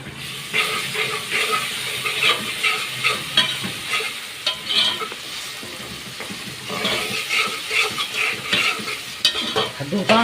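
Carrots sautéing and being stirred in a pan while cooking Alexandrian koshari, a steady close sizzle and hiss broken by repeated scraping stirs, with no talk.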